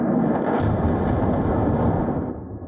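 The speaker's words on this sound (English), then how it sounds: "Explosions tear through the front lines." Heavy rumbling blasts of explosions and artillery fire on war front lines roll together into a continuous thunderous roar, loud and dense, fading slightly at the end.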